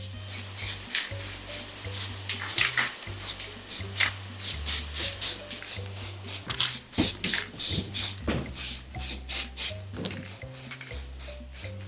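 Aerosol spray paint hisses in rapid, regular short bursts as alloy wheels are re-sprayed, close and steady over a low backing of music.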